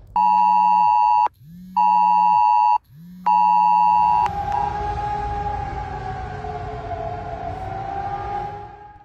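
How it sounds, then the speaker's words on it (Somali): Three loud, long electronic alert tones sound from a phone during a nationwide warning test in Germany. A wailing civil-defense siren then takes over and keeps droning steadily in the background. "buunkan ama seerigan codka dheer leh ee laga maqlay guud ahaan dalka jarmalka"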